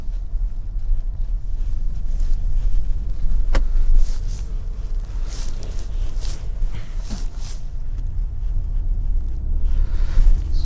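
Kia Sonet car engine rising under acceleration while driving, a steady broadband rumble with wind noise throughout, fairly loud and continuous with no talk.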